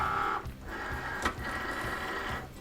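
Cricut cutting machine drawing in a cutting mat, a close mechanical whir with rhythmic clicking and a brief louder clunk partway through.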